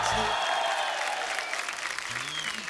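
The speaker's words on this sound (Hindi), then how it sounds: "आप सबकी जोरदार तालियों के बीच बुलाना चाहूंगा कंगना रनौत।" Studio audience applause on a comedy show as a guest actress is welcomed: steady, full clapping throughout, with faint music tones under it.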